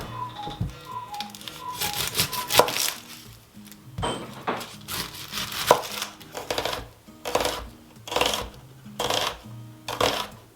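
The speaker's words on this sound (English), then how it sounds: "I'll go ahead and slice up my onion real quick." A knife chops rhythmically through an onion on a cutting board in a kitchen, a series of close, sharp thuds in quick bursts with short pauses between runs.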